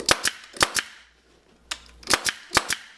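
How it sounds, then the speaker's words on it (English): A staple gun fires into an upholstery pleat, sharp snapping shots in quick pairs and a single, close and crisp with quiet gaps between. "I'm going to staple the pleat in"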